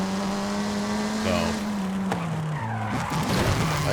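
Race car tires squealing and skidding in Forza Horizon 5 during a hard turn on a track day, a sustained screech over a steady engine drone, close and loud throughout.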